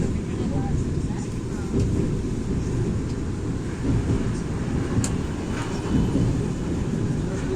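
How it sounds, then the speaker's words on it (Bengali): A train rolls steadily alongside on a journey from Howrah to Puri, heard as a continuous low rumble and rattle with occasional clanks, with a voice speaking over it. "এই দেখো পাশ দিয়ে একটা ট্রেন যাচ্ছে"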